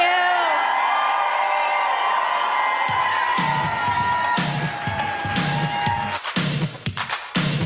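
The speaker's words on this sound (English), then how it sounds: "The crowd today shouting for Katie." A dense crowd at an election night event for the Arizona governor's race cheers and shouts for Katie, a loud continuous roar with whoops, then rhythmic chanting in strong repeated bursts.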